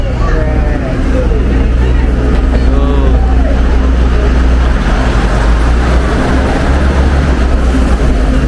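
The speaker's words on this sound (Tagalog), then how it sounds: "May train ko, baka gusto mo videoan. Train na dadaan." Train passing by in Northern Taiwan, a loud steady low rumble and roar of wheels on rails close by, with faint squeals early on and people talking over it.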